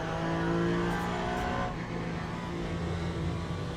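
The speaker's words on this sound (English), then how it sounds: "It's the RPM dropping. Listen to that rumbling as soon as I get off the throttle here." A Lamborghini race car engine in the Le Mans Ultimate racing game drones loudly, then drops into a deeper, burbling rumble as the revs fall off the throttle, steady and close with no talk.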